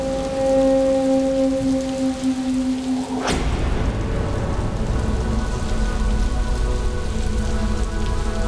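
A sustained tone cuts off and heavy rain takes over, falling loudly and evenly as a dense hiss for several seconds.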